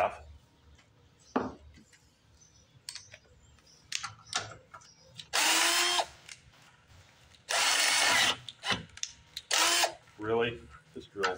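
A cheap power drill whirs in two short bursts between clicks and knocks of handling, with someone talking intermittently around it.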